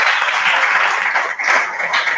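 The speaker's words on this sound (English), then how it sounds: "give yourselves a round of applause for coming out to support this organization" Steady audience applause fills a comedy night crowd at a Twin Cities Film Fest benefit, a dense, loud wash of many hands clapping continuously without pause.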